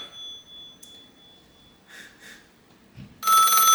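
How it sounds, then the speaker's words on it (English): A landline telephone rings again to remind the user of a call left on hold. Faint chirps come first, then a loud electronic ring bursts in at the end, with no voices. "It'll ring the phone again, telling you that you forgot about the first person."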